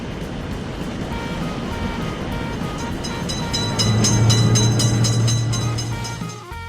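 A video-game train rolls past a level crossing with gates for car traffic, a steady loud rumble that swells near the end with a sustained low tone and bright ringing partials, then cuts off abruptly.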